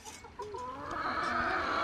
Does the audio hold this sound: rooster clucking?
yes